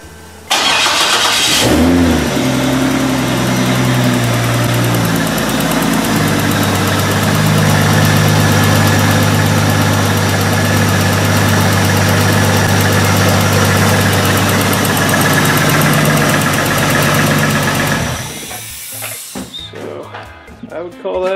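A car engine cranks and fires for the first time after a conversion to LS ignition coils, revs briefly, then settles into a steady, loud idle that runs for about sixteen seconds before it is switched off.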